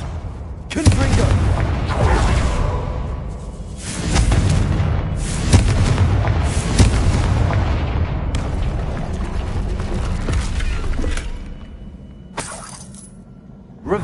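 Loud, continuous blasts and crashing booms from Confringo and Bombarda spells in the Hogwarts Legacy game during a troll fight, layered with debris crashes and a voice calling out spell names.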